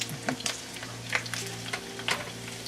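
Oil sizzles and crackles in a pan while steaks are seared, a steady frying hiss with scattered pops and stirring scrapes, close and alone.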